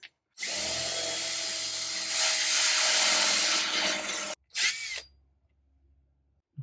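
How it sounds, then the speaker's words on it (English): A loud power drill whirs steadily for about four seconds drilling out metal on a throttle body, cuts out, then gives a short second burst before near silence. "Drill it out."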